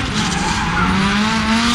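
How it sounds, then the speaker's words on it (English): A race car drifts, its tires skidding and squealing in a loud, continuous screech over a strained, rising engine drone, close and unbroken, with no talking. "This is the image we normally have of Kyle Mohan, drifting."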